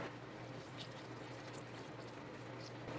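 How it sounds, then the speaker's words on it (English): Water pours softly into a bowl of pie dough in a faint, steady trickle, with a low hum underneath and no voices. "the next step is adding the water to our pie dough."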